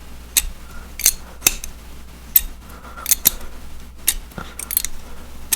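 Andux butterfly trainer balisong being flipped by hand, giving a string of sharp metallic clicks and clacks at an irregular rhythm, close up and alone with no talking.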